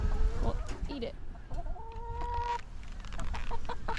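Chickens cluck and chirp close by, a few short calls scattered over a low rustling background, with a brief tonal squawk in the middle.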